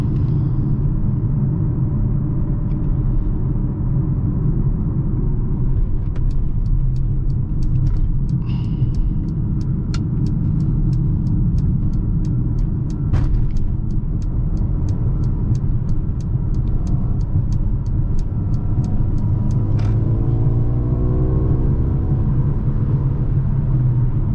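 A 2021 Mercedes-AMG GLA 35 SUV accelerates onto a freeway at night, its engine and road rumble heavy and steady from inside the cabin, with faint ticking clicks running through the middle stretch.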